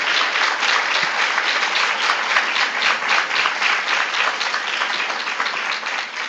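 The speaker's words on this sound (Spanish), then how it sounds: "Muchas gracias por los aplausos" An audience claps at a law lecture on the Civil and Commercial Code, a steady, dense round of applause that stays loud and even for over six seconds before easing slightly at the end.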